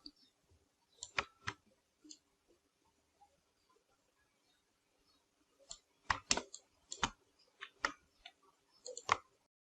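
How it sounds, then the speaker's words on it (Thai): Computer mouse clicking one point at a time while tracing a path around a coffee cup in Photoshop CC 2020, crisp close clicks in scattered single and paired bursts with quiet gaps between, no talk. "ค่อยๆ คลิกไปทีละจุดนะครับ"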